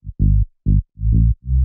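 A house-track bass line from an Operator bass preset plays alone: five short, punchy synth bass notes in a bouncy looping rhythm, loud and dry with brief silences between.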